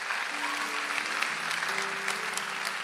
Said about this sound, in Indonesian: kasih tepuk tangan dong buat Richard